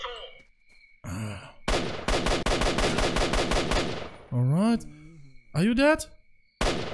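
Bursts of rapid automatic gunfire crack out in the STALKER Shadow of Chernobyl shooter, a dense volley around the middle followed by groaning cries, with someone talking over parts of it.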